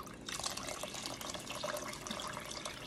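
Water streams steadily into a cooking pot of Filipino salmon sinigang, a tamarind soup with eggplant, making a continuous close splashing pour with no pauses and no talking.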